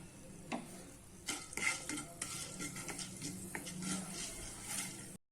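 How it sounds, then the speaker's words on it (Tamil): Black peppercorns frying in coconut oil in a pan: soft sizzling with scattered pops and a few clinks of a spoon stirring against the metal, fairly quiet and close. "இப்போ நான் 1 டேபிள் ஸ்பூன் அளவுக்கு மிளகு வச்சிருக்கேன். அதை போடலாம். அது நல்லா கொஞ்சம் பொரியட்டும்."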